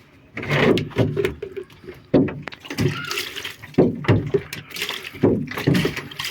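Water is poured in repeated glugging splashes into a large pigeon drinker, each pour sloshing and gurgling close by with short pauses between.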